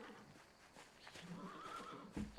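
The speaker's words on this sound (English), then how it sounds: "Mick Klaus, tend to the horses and the baggage" A horse neighs in the medieval video game Pentiment. It is one brief, faint whinny with a rising and falling pitch over soft background ambience, and no speech.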